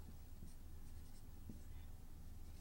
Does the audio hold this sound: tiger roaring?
no